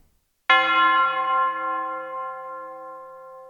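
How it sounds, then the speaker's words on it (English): A single chime note from the chimes stop of a Cantorum Duo organ strikes cleanly after a brief silence, then rings on with a long bell-like decay, alone and fairly loud. "Next, number 7 is Chimes."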